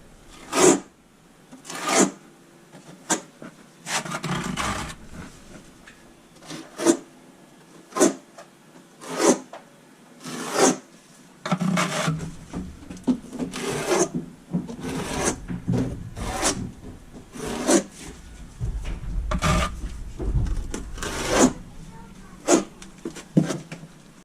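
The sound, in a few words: trowel scraping while applying Schluter Kerdi shower waterproofing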